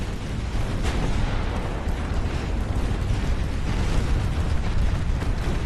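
A torpedo explosion in the naval game Ultimate Admiral Dreadnoughts, heard as a dense, rumbling blast with crackling bursts that roll on steadily at moderate loudness without speech.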